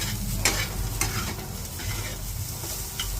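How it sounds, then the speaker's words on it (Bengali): Soybean chunks sizzle and fry in hot oil while being stirred, with a steady crackling hiss and a few sharp scraping clicks of the spoon against the pan, close and alone. "এরপর সয়াবিনটাকে একটু তেলে নেড়ে নিলাম"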